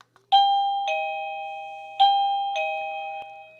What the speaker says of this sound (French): Le son est vraiment très fort.